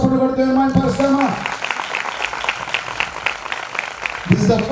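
A church congregation at a Methodist church breaks into steady applause between a preacher's spoken lines, the clapping dense and sustained for a few seconds before speech resumes.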